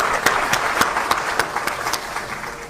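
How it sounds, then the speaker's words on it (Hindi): An audience bursts into steady applause at a public event, a dense wash of many hands clapping at once with a few sharper individual claps standing out, continuing without pause. "एक बार तालियां हो जाएं इस कामयाब पहल के लिए।"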